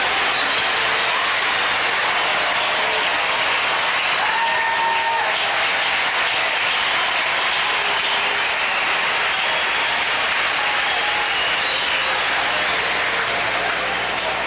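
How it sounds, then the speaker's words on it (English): Sustained applause and cheering from a capacity crowd at the 1998 Cincinnati Masters tennis final between Rafter and Sampras, a dense, steady roar of clapping that fills the whole stretch without letting up. "A tremendous ovation from a capacity crowd for two great players who produced a memorable final"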